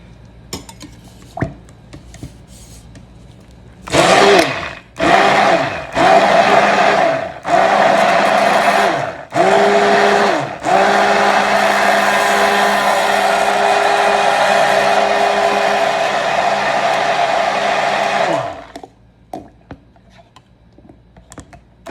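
An electric hand mixer whips a batch of emulsified body butter, first in several short bursts and then in one long, loud, steady whir before it cuts off, with bowl clinks around it.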